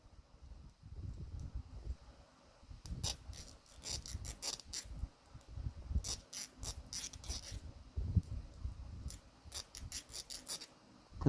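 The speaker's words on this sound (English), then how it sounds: "I'm going to work on filing this sharp edge down" A metal file worked by hand over a sharp metal edge, close and fairly quiet: uneven bursts of gritty rasping strokes with small scrapes and clicks between them, no talking.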